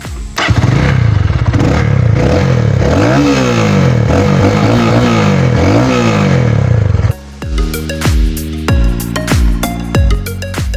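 A Roadmaster Rapido 150 motorcycle engine revs up close and loud in rising and falling sweeps, then after a brief drop it blips in short, sharp revs with a sporty exhaust note.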